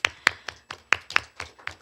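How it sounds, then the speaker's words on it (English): A handful of people at a school board meeting clap for a student of the month, about eight sparse, distinct claps spread over under two seconds, fairly quiet and close. "We can give her a round of applause."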